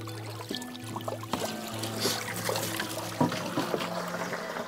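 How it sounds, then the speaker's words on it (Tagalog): Water being drawn and poured into large and small containers at a community water source on an island, a soft trickling and splashing stream with faint clunks of containers, fairly quiet under a steady low hum. "Dito nag-iigib ng tubig si Tatay Rusibal."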